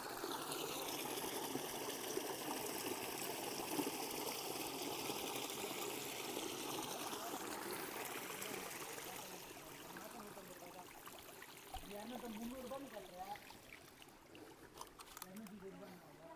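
Water runs steadily from a natural spring at a rocky pool site, a constant close rushing trickle that fades into a softer babble toward the end, with faint voices at times.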